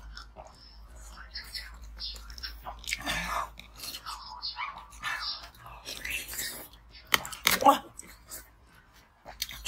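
Crunchy ice being bitten and chewed close to the mic in a mukbang-style eating session, with irregular crisp crunches and soft mouth sounds, plus a sharp louder bite near the end; whispery talk occurs alongside.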